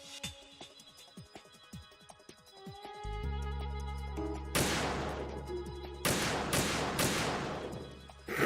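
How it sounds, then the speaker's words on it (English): Gunfire in the Metal Gear Solid 2 video game: a series of sharp shots and crashes over a droning game soundtrack, loud and up close, with no one speaking. "if I was Emma and I heard the frequency of those gunshots, man, I would fucking lose my mind"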